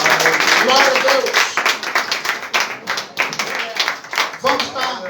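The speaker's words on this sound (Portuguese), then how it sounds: "Fica de pé, aplauda o Senhor." A church congregation claps steadily together during a worship service, the rapid claps dense and close, mixed with voices talking and calling out over them.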